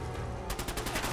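Rapid gunfire in a Terraria-like 2D video game erupts halfway through as a string of sharp repeated shots over a low game backdrop.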